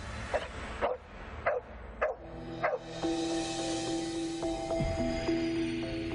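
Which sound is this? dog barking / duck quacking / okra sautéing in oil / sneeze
dog barking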